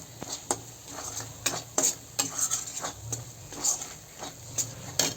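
Spice paste for a rohu fish curry with spinach fries in a pan. Its soft sizzle sits under sharp, regular scrapes and clinks of a metal spatula against the pan, close and clear.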